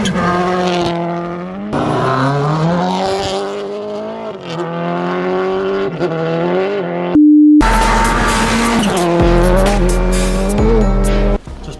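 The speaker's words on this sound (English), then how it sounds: "Next one is the fast straight, where the car's going to whip past the camera and just create that real sense of speed." A Subaru Impreza WRC works rally car roars past at speed on a fast straight, engine note climbing through several gear changes, loud and near, with a sharp blast as it passes.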